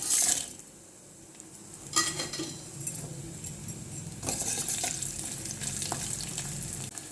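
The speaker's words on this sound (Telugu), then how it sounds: "గిన్నెలో ఆయిల్ వేడయ్యాక జీలకర్ర ఆవాలు వెల్లుల్లిపై ఎండుమిర్చి వేసుకోవాలి" Cumin, mustard seeds, garlic and dried red chillies crackle and sizzle in hot oil with a steady hiss, interrupted by a few metallic clinks from a spoon.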